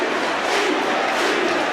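Rugby league stadium crowd at a St Helens match roaring steadily, a dense, loud, sustained wall of cheering voices from all around.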